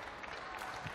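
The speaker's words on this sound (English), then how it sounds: "Again, warm round of applause from Gilmour," A badminton crowd at the Scottish Open Grand Prix claps warmly, dense and continuous for a short moment, with a voice faintly over the top.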